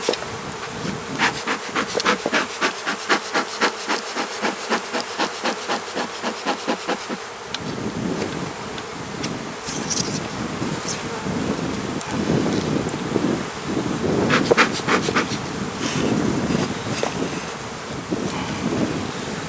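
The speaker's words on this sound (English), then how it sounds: "this hive is going to explode soon with bees" Honey bees buzzing around an open, crowded hive during an inspection, a dense steady drone close to the microphone with wind buffeting and rhythmic scraping or tapping in the first part.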